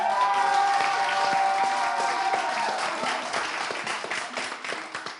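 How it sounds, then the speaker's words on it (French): Audience at a Togolese cinema segment of a French-language TV show applauds steadily, a dense, fairly loud wash of clapping with a few sustained tones underneath that thins slightly toward the end. "On applaudit encore!"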